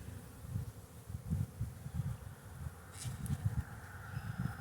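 A low, pulsing hum of many honey bees buzzing together in an overwintered nucleus hive, close and continuous, with faint handling noises.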